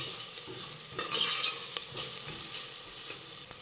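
Spices and salt stirred in a hot pan while making vangi bhat, with a steady close sizzle of frying and irregular scraping strokes of the spoon, no talking.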